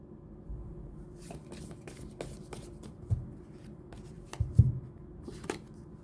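Tarot cards are laid out one by one on a table during a reading, making soft scattered slaps and shuffling rustles at close range with quiet pauses between them.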